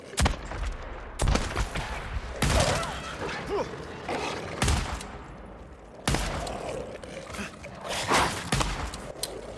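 Repeated bursts of gunfire in the video game Days Gone, sharp cracks and rapid volleys scattered across the stretch, loud and close, with a voice occasionally underneath.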